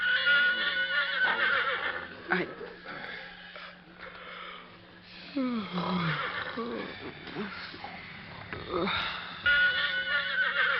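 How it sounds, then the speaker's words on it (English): A frightened pony whinnies and snorts in several shrill, wavering bursts, with sniffs and breaths between them, heard near and clear throughout while a voice speaks over parts of it. "William Barclay Masterson sensed rather than heard his pony's whinny of fear."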